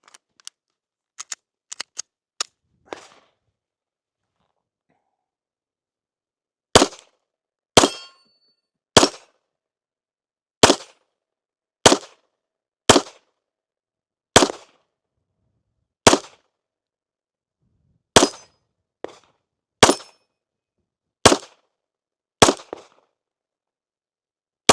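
A pistol fires repeated loud, sharp shots on a shooting range, first a quick burst of several, then a long even series of single shots spaced about a second apart, each ringing briefly before quiet.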